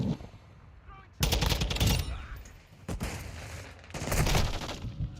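Rapid automatic gunfire in Modern Warfare II multiplayer, coming in several loud sustained bursts with short pauses between them. A faint voice can be heard in the gaps between bursts.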